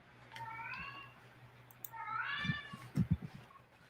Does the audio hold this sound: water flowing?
no